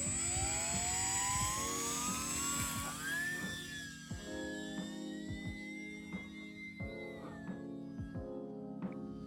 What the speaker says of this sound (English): I've got the P3 Revolution ready. And let's see how a biplane can fly.